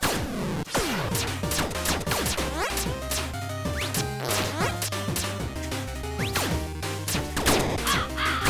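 Harsh synthetic caws from a bird enemy in the video game Sigi - A Fart for Melusina, repeated amid loud game music, whooshes and thwacking hit effects that run densely throughout without any talk.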